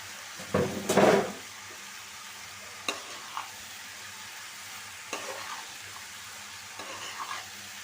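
Kachki fish curry with eggplant and potato being stirred in a pan: a burst of stirring and sizzling early on, then quieter scattered scrapes and soft frying noises.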